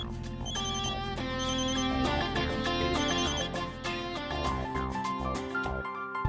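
A phone ringtone plays as a loud, continuous musical melody with bright repeating tones, sounding alone without any talk over it.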